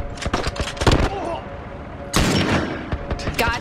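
Enemy gunfire in The Last of Us comes in rapid bursts of shots, a volley, a pause, then another heavy burst, loud and close, with a voice speaking between them.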